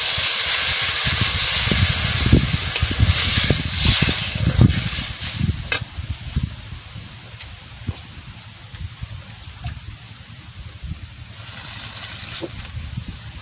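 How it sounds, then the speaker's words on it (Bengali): Water poured into a hot pan holding tilapia fish, a loud sizzling hiss that stays strong at first, then settles into a softer bubbling steam with occasional crackles. "এবারে আমি জল ঢেলে দিচ্ছি।"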